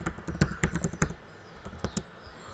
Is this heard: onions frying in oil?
no